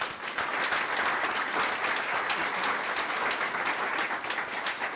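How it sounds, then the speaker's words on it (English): An audience at a school board meeting gives a student a round of applause, a steady, full wash of clapping from a roomful of people, even in loudness throughout. "But please give him another round of applause."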